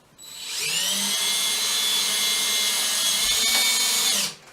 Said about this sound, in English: Use two hands so you have good control of your drill. And go ahead and drill your hole.